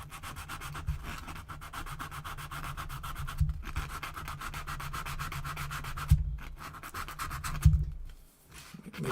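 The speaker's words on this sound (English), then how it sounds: "This is very fine sandpaper, but you can use different grades." Very fine sandpaper rubbed briskly across a watercolor painting, a close, continuous rhythmic scratching with rapid even strokes, broken by a few soft thumps and brief pauses.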